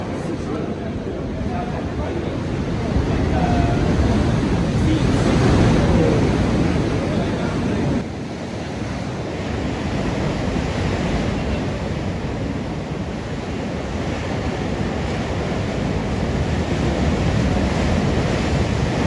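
Atlantic sea waves wash and roar continuously at Hercules Cave near Tangier, loud and close, with wind buffeting the microphone throughout.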